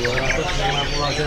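Brief chirping calls from a white zebra dove (perkutut) at a busy bird market, faint and repeated under someone talking nearby.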